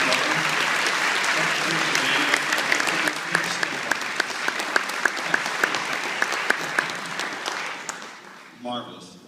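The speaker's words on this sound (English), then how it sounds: "what a nice round of applause for those parents" An audience at a high school concert gives a round of applause for the students' parents, a dense, sustained wash of clapping that thins out toward the end, with a few sharper individual claps and some voices mixed in.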